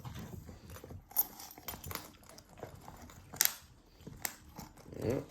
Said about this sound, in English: I'm chewing on a bone